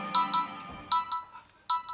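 Mobile phone ringtone for an incoming call, a bright electronic melody of short repeating chimes arriving in three bursts, fairly clear and close with quieter background between.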